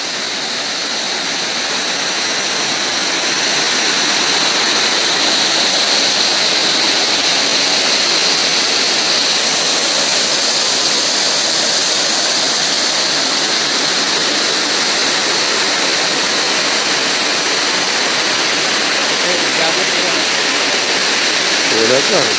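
Steady, loud roar of the Sarugudu waterfall flowing, a dense unbroken rush of falling water heard close by with no pauses.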